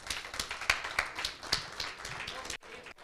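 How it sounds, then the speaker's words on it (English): A small audience at an evening community programme gives a round of applause, sparse distinct claps at a moderate pace that thin out and stop abruptly near the end. "can we have a round of applause for this age group"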